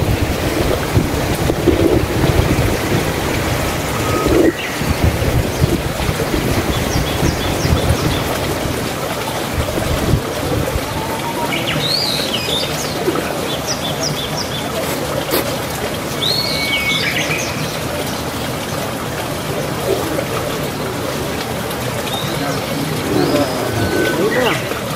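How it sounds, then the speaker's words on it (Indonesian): Wind gusts buffet the microphone on Pelangi Beach in Aceh, a steady broadband roar with a low rumble from a passing boat and faint bird chirps scattered through, with no talk. "Ini guys pantainya."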